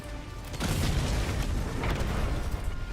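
A grenade explodes in the Cyberstan game with a deep, loud boom that rumbles on for a couple of seconds, with no talk over it.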